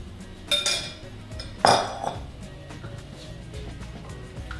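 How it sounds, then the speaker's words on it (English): Canned beans tumble into a pot of vegetable soup with two sharp metallic clinks and a wet slide, close and brief against a quiet kitchen background. "And then we will also add in all of our beans."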